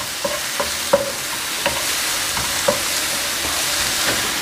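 Vegetables for a Thai green curry sizzle steadily in a pan, with a spatula scraping and tapping against the metal at irregular intervals, close and moderately loud.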